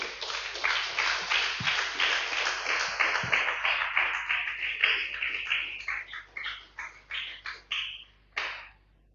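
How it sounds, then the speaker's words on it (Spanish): A church congregation claps at a sermon, a dense burst of many hands that thins into scattered separate claps and fades out by the end. "denle fuerte el aplauso"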